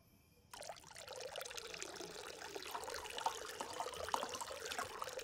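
Drink poured out onto the ground, a steady splashing pour that starts abruptly and runs for about five seconds, fairly close and alone with no talk.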